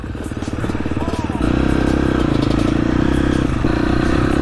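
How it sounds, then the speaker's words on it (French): A KTM 250 SXF motocross bike ridden on a trail, its engine droning loud and steady and then stepping up to a harder, rougher pull partway through, with clattering throughout. "c'est une vraie motocross KTM 250 SXF. On va voir ce que ça donne."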